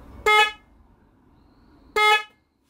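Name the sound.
horn being tested after mounting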